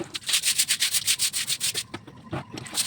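A broom sweeps a home floor early in the morning, giving a steady run of close, rhythmic bristle strokes, about three per second, with a short pause near the end before sweeping resumes.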